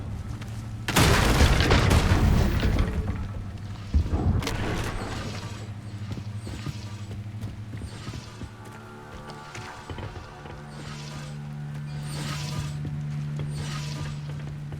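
The Incendio fire spell cast in Hogwarts Legacy erupts in a loud whooshing burst, followed by a second blast and rumbling, crackling game effects that fade into a softer ambient drone.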